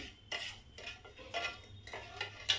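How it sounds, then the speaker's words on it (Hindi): A spoon scrapes and clinks against a pan while chhena mixture is stirred over a medium gas flame, with five or six distinct scraping strokes in an uneven rhythm, close and clear, with no voices. "ऐसे चलाते रहना होगा।"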